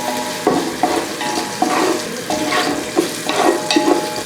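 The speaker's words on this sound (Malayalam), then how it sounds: "ഒന്ന് ഇളക്കി കൊടുക്കും." Chicken rice masala is stirred in a frying pan: repeated scraping strokes come in an uneven rhythm over a constant, close sizzle.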